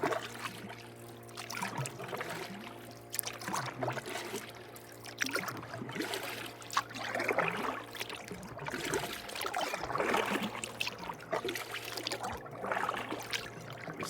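Canoe paddling on calm lake water in autumn, with soft, irregular paddle strokes and gentle drips and trickles repeating every few seconds over a low steady hum, no voices.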